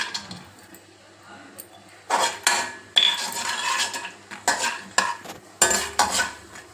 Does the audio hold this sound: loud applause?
no